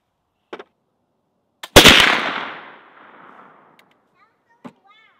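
A single loud shot from a .32 caliber flintlock rifle, a brief priming crack followed at once by a heavy boom that rings out and decays over about a second, with faint clicks and handling noises before and after.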